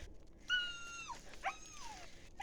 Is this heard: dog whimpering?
yes